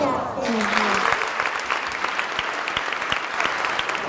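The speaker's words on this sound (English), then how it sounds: "Everybody clap" Student audience at the opening of the Colorado House legislative session clapping after the Pledge of Allegiance, a sustained roomful of applause with a voice briefly heard at the very start.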